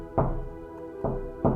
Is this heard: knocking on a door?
yes